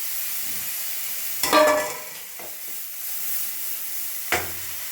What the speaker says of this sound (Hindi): बटर डाल के पनीर को छोटे कर देंगे, मतलब हल्का सा फ्राई कर देंगे।